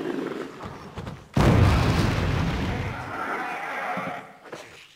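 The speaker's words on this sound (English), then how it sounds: "Now let's try flame rounds." Flame rounds fired at a hunter in the Resident Evil REmake, heard as a sudden loud burst followed by a sustained roaring rumble that slowly fades.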